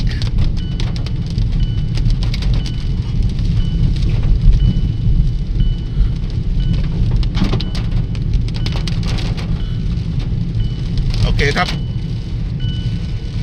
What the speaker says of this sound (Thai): ทั้งลมทั้งฝนครับ